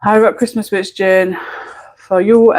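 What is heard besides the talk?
No everyday noises stand out.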